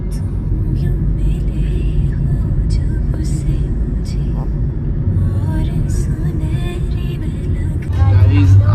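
Heavy road traffic on a busy road near Kalyan, with a dense, continuous engine rumble from many vehicles passing close by. The noise swells louder near the end as a larger vehicle goes past.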